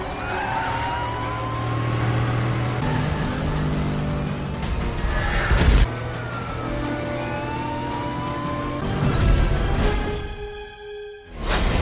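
A stolen car pulls away from the front of a casino, its engine droning steadily and rising as it speeds off, with a brief whoosh midway and a siren-like tone near the end over busy background music.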